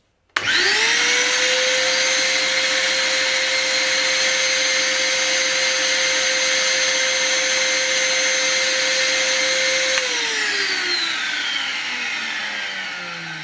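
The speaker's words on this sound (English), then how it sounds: "The noise isn't too bad for me, though I am looking at getting more of a silent style vacuum cleaner" A vacuum cleaner switches on abruptly and runs with a steady high-pitched whine, then winds down slowly as it shuts off.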